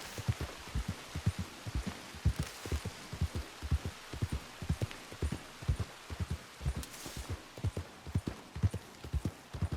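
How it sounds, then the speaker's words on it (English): Rain falling in the video game Red Dead Redemption 2, heard as a soft, steady patter behind a regular run of close, rhythmic horse hoof clip-clops. "It just rains immediately after."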